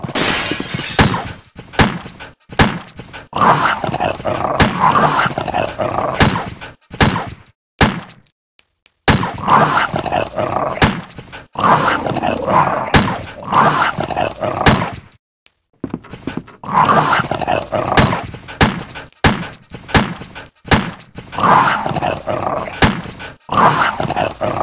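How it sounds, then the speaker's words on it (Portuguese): Dogs barking and growling in the Resident Evil video game, loud repeated bursts of snarling and barking mixed with thuds and breaking sounds, continuing in clusters with short silent gaps. "Tô com trapaça e mesmo assim não consigo matar os cachorrinhos"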